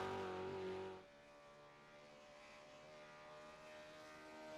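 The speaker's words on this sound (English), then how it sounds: "let's just listen to the V8, see if we can hear him hit the rev limiter." V8 race car engine at Bathurst holding a high steady note at full power, harmonic drone loud for the first second, then dropping slightly and sustaining as it teeters near the rev limiter, with no talk.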